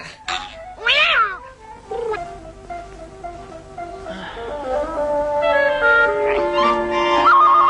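A cat gives a sharp meow, then a drawn-out, wavering yowl that rises in pitch and grows louder toward the end.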